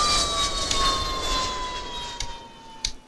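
An airplane flying in ARMA 2, a loud steady jet-like engine whine with a slowly falling tone, fading toward the end with a couple of brief thumps, and no talking.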